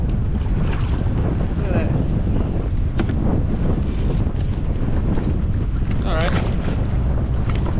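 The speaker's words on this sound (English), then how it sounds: "This wind is kicked up, so I'm starting to drift back" Strong wind buffeting a microphone while kayak fishing at sea off Seward, Alaska, with continuous heavy rumble and gusts, water splashing around the kayak, and someone speaking briefly.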